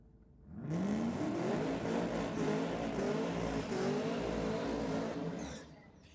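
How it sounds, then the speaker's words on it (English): A car doing a burnout at a Sydney drag racing event, with a loud sustained engine roar and screeching tyres rising and holding for several seconds before dropping away, with no talk. "No mercy in the burnout."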